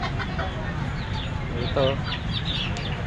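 Pom-pom chickens cluck at an agricultural fair, brief clucks and chirps rising over steady crowd noise and a voice talking nearby.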